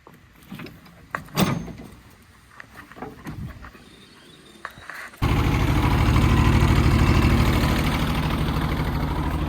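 A car engine starts after a radiator repair and a battery charge, with some clunks and rustles first, then a sudden catch into a loud, steady idle with a low rhythmic chug, close up.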